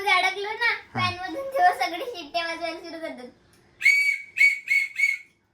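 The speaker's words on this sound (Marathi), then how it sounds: "छान दिसतात शिट्टी वाजते ट्रॅफिक" Children's police traffic activity, with someone talking excitedly, then several short, shrill whistle blasts in a quick series, close and loud.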